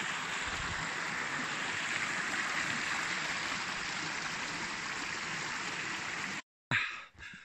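A mountain stream on the Mt Cloudsley Track flows with a steady, close rushing wash, continuous until a brief break near the end.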